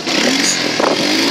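A motorcycle engine held loud and close against the rev limiter gives a sustained high buzzing roar with slight stuttering pulses throughout, and no voice over it.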